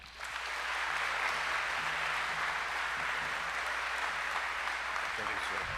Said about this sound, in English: Let's give a big round of applause for Brian Wyman.